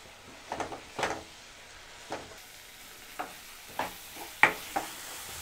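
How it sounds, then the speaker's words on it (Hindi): Masala with red chilli fries on a high flame for bhindi masala, heard as a low, quiet sizzle broken by a handful of separate stirring scrapes and clinks spaced a second or so apart, with no voices. "और अब इस मसाले को हमें अच्छे से फ्राई करना है"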